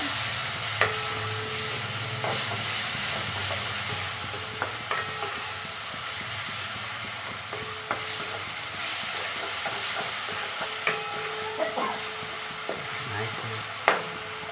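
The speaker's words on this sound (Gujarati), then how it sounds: "આ બધું સરસ મજાનું તળાઈ ગયું છે" Potatoes fry in butter for batata poha with a steady, close sizzle. Occasional clicks and scrapes of a stirring spoon against the pan sound through it.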